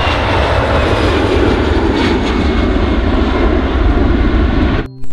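A loud, steady airplane engine roar plays continuously for about five seconds while a toy plane is flown, then drops off abruptly at the end.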